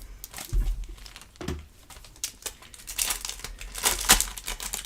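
Paper sheets from an under-the-sea card kit paper pad being handled, with irregular crinkling and rustling bursts at close range, some brief sharper crackles, and no talk.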